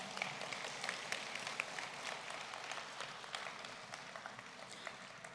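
An audience in a hall at a Korean People First convention applauds in a dense, continuous wash of many hands clapping, fairly distant and even in level, holding steady throughout without talk over it.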